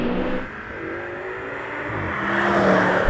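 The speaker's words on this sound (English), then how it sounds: "I could just see that M5 spinning its wheels" A V10 BMW M5 spins its wheels while launching against an AMG E55 and an Audi RS6 in a drag race, the engines' continuous loud roar climbing in pitch and swelling as they pull away.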